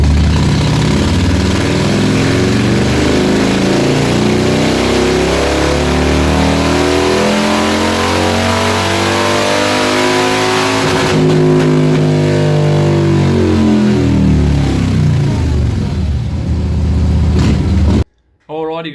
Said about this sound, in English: So let's get this thing ramped up on the dyno here.